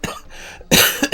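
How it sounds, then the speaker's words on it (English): A chronically ill person coughs close up, a softer rasp first, then a loud burst of harsh coughs with a short follow-up hack at the end. "so I cough a lot."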